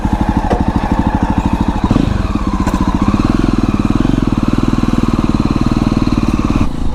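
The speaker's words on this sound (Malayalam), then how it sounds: "വളരെ വളരെ വളരെ ഒച്ച കൂടിയ ഒരു സൈലൻസറാണ്." Jawa Perak BS6 motorcycle fitted with a very loud silencer, its exhaust thumping in a rapid, steady beat close up, revving slightly and staying strong for the whole stretch.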